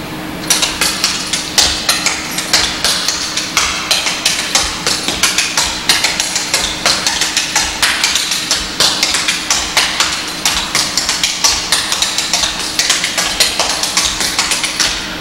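Tap dance double toe steps, a fast run of sharp metallic taps and scuffs on a hard floor, heard close and loud in quick, regular clusters throughout, with no talking.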